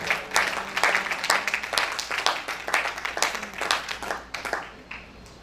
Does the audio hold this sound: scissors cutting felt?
no